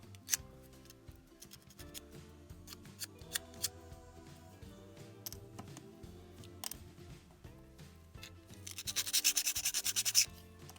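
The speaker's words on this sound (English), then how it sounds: "I'm really just gonna sand the part." A small wooden part is hand-sanded at a desk with short scratchy rubbing strokes in irregular bursts, quiet and close, with a faster, denser stretch of scraping near the end.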